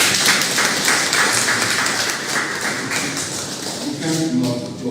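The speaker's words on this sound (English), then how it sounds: "I'm going to ask you to give Professor Scott another round of applause." A round of applause for a professor at a sustainable agriculture certificate ceremony: dense, steady clapping from an audience, thinning slightly near the end as a voice begins.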